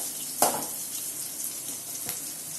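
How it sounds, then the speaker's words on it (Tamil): Okra sautéing with salt in a pan for vendakkai poriyal, a steady close sizzle and fry hiss with a couple of sharp stirring clatters. "சால்ட்டு போட்டுட்டு எப்பவுமே வதக்குங்க, குயிக்காக வதங்கிடும்"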